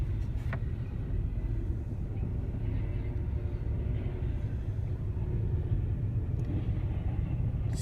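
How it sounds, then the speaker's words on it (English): A long freight train of double-stacked cars rolls past nearby, a steady loud low rumble that holds throughout with no letup. "Here's the train. They're all double cars."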